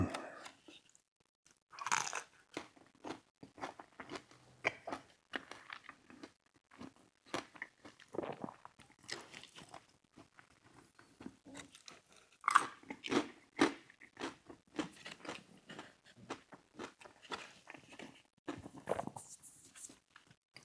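Crunchy fried cheese curds from Popeyes being bitten and chewed up close, with repeated crisp crunches and crackles in an uneven rhythm, fairly quiet and alone.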